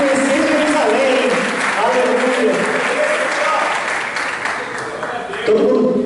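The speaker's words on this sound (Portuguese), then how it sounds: "Você pode aplaudir ao Senhor." Church congregation applauding during a worship service, steady dense clapping that runs the whole time beneath a voice talking and some musical tones.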